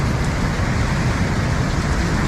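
Heavy monsoon rain pours on a market road during flooding in Kullu, a loud, steady, unbroken wash of hiss and patter filling the whole moment, with no voices.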